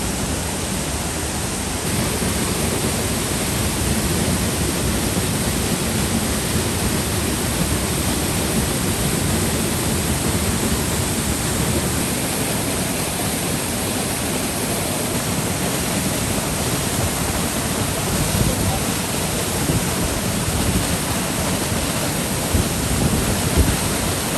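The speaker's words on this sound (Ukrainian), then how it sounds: "вже майже на водоспаді гук. Вон ми його вже бачимо, залишилось буквально метрів 15." Huk waterfall in Yaremche, about 900 metres up in the Carpathians, pours with a loud, steady broadband roar of falling water that stays constant throughout, heard close up with no talk over it.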